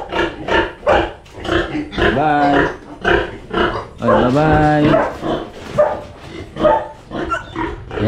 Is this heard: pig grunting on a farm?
yes